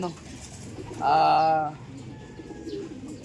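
A young pigeon gives a single close, mellow coo lasting about half a second, standing out clearly over faint background murmur from a man handling the birds.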